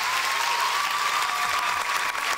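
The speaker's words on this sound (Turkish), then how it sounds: "Ben Alona için bir alkış rica ediyorum." Studio audience on a Turkish dance competition show clapping for dancer Alona, a loud, dense, continuous burst of applause over a faint steady tone, with no talking.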